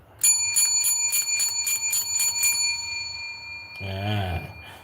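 A bell-like notification sound effect rings out in a fast run of about nine bright, evenly spaced dings, then a short warbling electronic flourish closes it.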